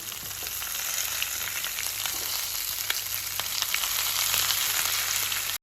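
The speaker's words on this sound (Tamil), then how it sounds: "இப்போ இதில் நம்ம டொமேட்டோஸ் போட்டுக்கலாம்." Tomatoes go into a pan of frying mutton chops, raising a loud, continuous hissing sizzle with faint crackles and light stirring, close up and without any voices.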